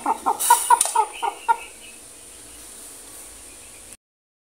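A hen clucks loudly in a quick run of sharp calls over about a second and a half, close by. Quiet outdoor ambience follows.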